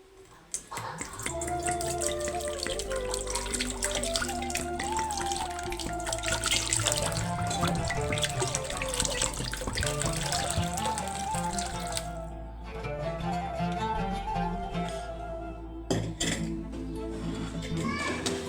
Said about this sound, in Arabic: غادي نديرو فيها هاد القلب السكر ونخويو عليه الماء